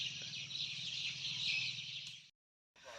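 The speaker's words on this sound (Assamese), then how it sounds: "এইফালে চৰাই মাত" Birds calling outdoors at sunset, a dense, continuous high chirping chorus that runs steadily, breaks off sharply for a moment, then resumes.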